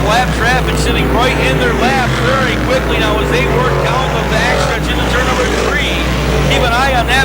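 Sportsman race cars roar around the oval at Can-Am Speedway in a steady, loud engine drone, with an announcer talking over the racing throughout.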